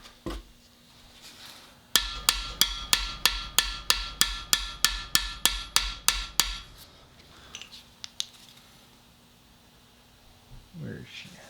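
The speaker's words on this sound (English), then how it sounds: "we're just going to hammer it on down in there" Steady hammer blows drive a part into a 1977 Ford F250's 351M engine during a rebuild, about sixteen sharp, evenly spaced metallic strikes, close and loud, followed by a few scattered taps and quiet handling noise.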